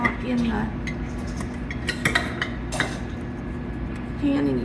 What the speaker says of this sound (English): We're just going to lift them out and put them on the cooling rack